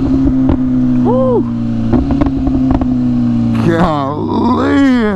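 A BMW M1000RR motorcycle under way: a steady engine drone with wind rush, a brief vocal whoop early on, then the revs climb in repeated rising sweeps near the end.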